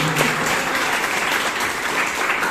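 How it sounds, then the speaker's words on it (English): Members at a Bangalore Toastmasters club meeting give a steady, enthusiastic round of applause in a room, continuous for the whole stretch with no speech over it. "let's give a big round of applause to the new Sergeant at Arms"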